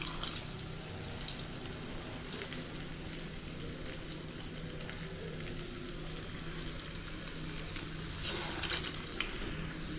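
Urad dal vada batter dropped into hot oil, frying with a steady close crackle and sizzle that runs through the whole stretch, with a few sharper pops near the end.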